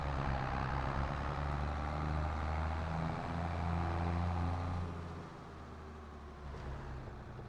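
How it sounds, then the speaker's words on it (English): The 8950 tractor's engine in a farming video game settles into a steady, deep diesel rumble at idle, then drops slightly in volume partway through while continuing to drone alone without talk. "I love the sound of this 8950. That engine just sounds awesome."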